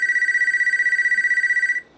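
A telephone rings with a rapid, buzzing electronic trill, loud and close, sustained for nearly two seconds before cutting off.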